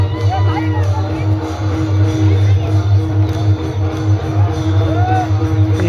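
Dense crowd murmur at a village temple fair (yatra) in Ambulga, Kandhar, Nanded, with steady babble and scattered voices over a continuous low hum, loud and sustained throughout.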